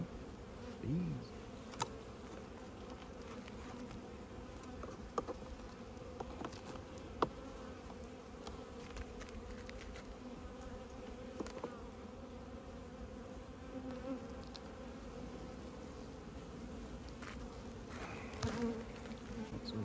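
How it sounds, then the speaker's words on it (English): Many bees drone in a steady, quiet swarm hum nearby, with occasional individual bees buzzing past a little louder. "There's too many bees on there, huh? Bees."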